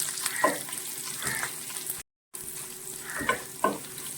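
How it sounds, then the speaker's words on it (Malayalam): Garlic sautéing in a pan for a North Indian dal curry: steady close frying hiss with several scraping stirs of a spoon, broken by a brief gap of silence midway, no voices. "ആദ്യം ഇതിൽ ചെയ്യുന്നത് നമ്മുടെ വെളുത്തുള്ളി ഇതിലേക്ക് ഇട്ടൊന്ന് സോൾട്ട് ചെയ്തെടുക്കുവാണ്"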